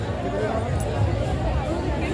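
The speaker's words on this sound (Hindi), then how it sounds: "जहाँ जहाँ तक नज़र जा रही है वहाँ तक भीड़ है।" Dense crowd chatter fills a busy Sarojini Nagar street market in Delhi, a steady close babble of many voices with shuffling and movement throughout, no single voice standing out.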